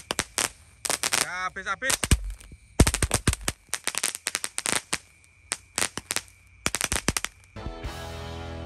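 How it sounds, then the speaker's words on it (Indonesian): Firecrackers and fireworks set off at night, rapid strings of loud sharp bangs and crackles in bursts, ending with a hissing, rising whoosh, with a brief voice in between. "menyalakan mercon malam ini"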